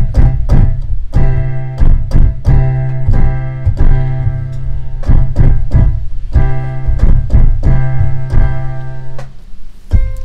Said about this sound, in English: And then what we can even do is drop in some staccato notes, so now it sounds like this.